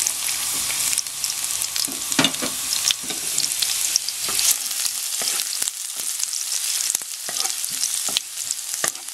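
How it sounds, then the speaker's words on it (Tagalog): Garlic fries in hot cooking oil in a pan, a dense close sizzle with crackling pops and intermittent stirring clatter, no one speaking. "So mainit na itong oil, lagay po natin itong garlic."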